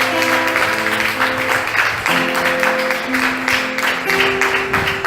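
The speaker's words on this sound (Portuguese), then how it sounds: "aplauda o Senhor porque merece" Worshippers in a church congregation clap throughout while sustained keyboard or organ chords ring underneath, giving a steady, full wash of applause blended with held musical tones.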